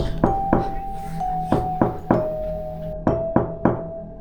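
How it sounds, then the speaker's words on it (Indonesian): Soft, dull knocks on wood from inside a wardrobe, about nine in irregular pairs and singles, close by, with a steady low tone humming underneath. "ia mendengar suara ketukan pelan dari dalam"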